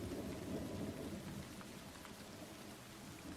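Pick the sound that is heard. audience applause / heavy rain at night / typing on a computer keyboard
heavy rain at night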